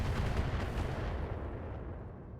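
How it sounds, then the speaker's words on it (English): Missiles lobbed in the mech strategy game RogueTech, heard as a dense, rumbling barrage of distant booms and crackling blasts that slowly fades, with no voices over it. "The more missiles they lob at our tanks, the happier I am."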